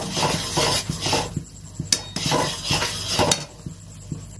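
Nakuldana sugar candies tumble into a pan with water while a mango pickle is made, giving close, irregular clinks and light scraping taps against the metal.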